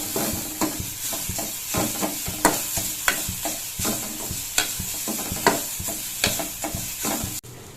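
Moringa leaves sautéing in a pan for soup, a steady sizzle of frying broken by repeated scraping stirs at a regular rhythm, close and alone.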